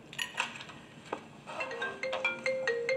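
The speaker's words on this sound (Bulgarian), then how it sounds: "А, кой звъни?" A phone ringtone chimes in a quick sequence of bright electronic tones that grow steadier and more insistent toward the end, heard alone without talk.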